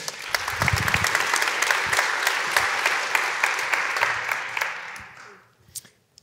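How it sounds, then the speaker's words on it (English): An audience at a conference keynote applauding, a dense burst of clapping lasting about five seconds before fading out, with a few scattered claps at the end. "A round of applause."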